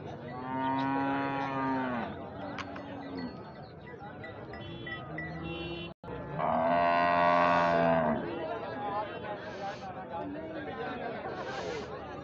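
A Sahiwal cow lows at a livestock market, two long, loud, close moos with a pause between them, over a murmur of people talking nearby.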